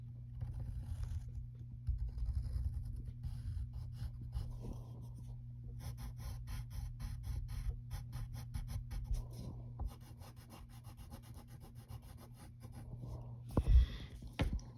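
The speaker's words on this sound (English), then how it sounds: "we gotta draw his eyebrows" Pencil drawing Scar's eyebrows from The Lion King on paper, with soft, close scratchy strokes repeating in short bursts over a steady low hum and ending in a brief louder rub.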